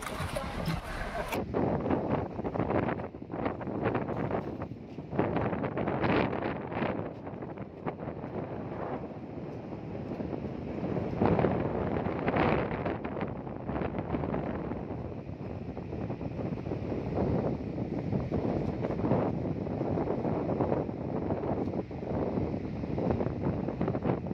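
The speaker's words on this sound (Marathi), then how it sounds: "आज इथे खूप जास्त वारा सुटलेला आहे" Strong gusting wind on a Konkan beach at high tide, roaring and buffeting the microphone with continuous rumbling bursts throughout, no voices.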